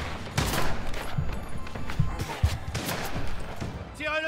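Rapid gunfire crackles in the mobster game Mafia: The Old Country, repeated shots and impacts close together, loud and steady, ending in a brief metallic ringing.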